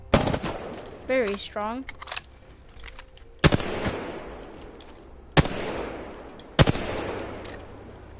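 Laser gun firing in a video game, a few sharp heavy blasts spaced about a second or two apart, each trailing off, with a brief warbling effect early on and a voice speaking briefly.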